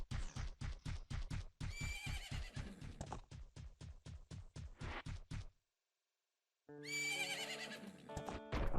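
Rapid rhythmic hoofbeats clatter along, then after a brief silence a loud horse whinny rises over music, a game sound effect from The Legend of Zelda: Majora's Mask.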